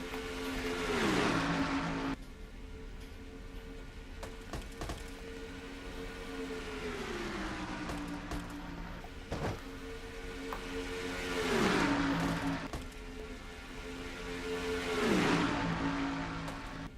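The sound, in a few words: race cars engines on track in a racing video game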